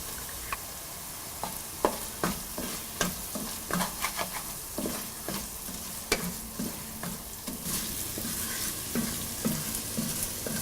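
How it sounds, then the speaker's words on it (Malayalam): Onions sauté with turmeric powder and ground masala paste for Kerala-style pork vindaloo, a constant sizzle punctuated by frequent rhythmic scrapes of a spoon against the pan, close and clear. "സവോള നന്നായിട്ട് വഴന്നു കഴിയുമ്പോൾ ഇതിലോട്ട് നമ്മൾ എടുത്തു വച്ചിരിക്കുന്ന മഞ്ഞൾപ്പൊടിയും അരച്ചു വച്ചിരിക്കുന്ന മസാല പേസ്റ്റും കൂടിയിട്ട് നന്നായിട്ട് വഴറ്റുക"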